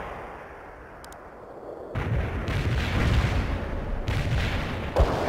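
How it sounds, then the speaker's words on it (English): Mortar fire in the World in Conflict video game, Soviet Assault mountain-defense battle: a dense, continuous roar of distant shelling swells abruptly and sustains loudly, with scattered booms and a sharper blast near the end. "Zulu Niner firing mortars at the target coordinates"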